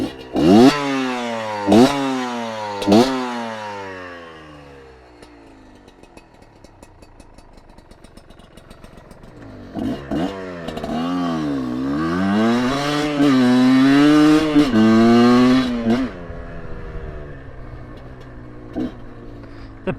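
A Kayo KT 250 two-stroke enduro dirt bike revs hard and shifts up through several gears, pitch climbing and dropping with each shift, close and loud, with no talking.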